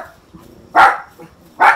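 Dog barking in the Palworld video game, two loud, sharp woofs about a second apart, with quieter whimpers and yips between them.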